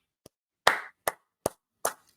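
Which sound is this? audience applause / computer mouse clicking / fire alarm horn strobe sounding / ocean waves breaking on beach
audience applause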